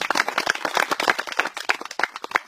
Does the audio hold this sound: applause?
yes